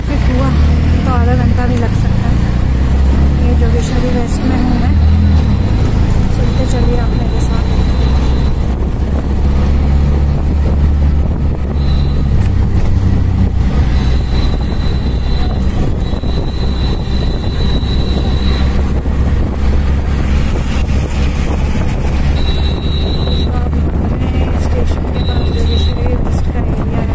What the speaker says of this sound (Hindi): मैंने रिक्शा ले लिया है और अभी बस हम इस रिक्शा से 15-20 मिनट में घर पहुँच जाएंगे।